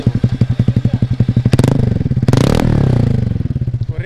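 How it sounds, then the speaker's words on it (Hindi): A TVS Ntorq scooter fitted with a bend-pipe exhaust idles with a loud, rapid popping putter, then revs hard twice in rising bursts before settling back into its throbbing idle, close and alone. "जैसे स्टार्ट करोगे ना आप स्कूटी को तो कुछ इस तरीके का साउंड आएगा"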